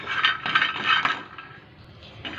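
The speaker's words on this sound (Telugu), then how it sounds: "ముందుగా స్టవ్ పైన కడాయి పెట్టేసుకొని కడాయిలోకి 2 టేబుల్ స్పూన్ల దాకా వేరుశనగ గుళ్ళు వేసి దోరగా వేయించాలి" Peanuts are stirred and roasted in a kadai on a stove, giving a steady rattling, scraping clatter of nuts against metal that swells and eases, close by and without any talk.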